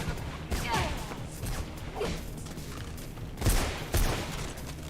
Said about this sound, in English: they have a goddamn machine gun